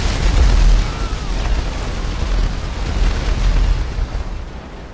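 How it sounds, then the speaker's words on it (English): Deep, rumbling explosions in the video game GTA V boom loudly and continuously, with heavy low-end bursts layered over a dense roar. "Explosions are deep and shocking."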